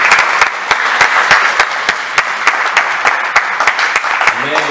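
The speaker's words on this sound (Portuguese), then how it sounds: "Então vamos aplaudir de novo." A youth church congregation at a Belo Horizonte youth service applauds in a dense, even wash of clapping with sharp individual claps standing out, loud and sustained throughout.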